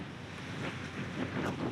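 Strong storm wind at sea, around 45 knots on a sailboat, roars as a dense, continuous rushing blast buffeting the microphone for a brief moment.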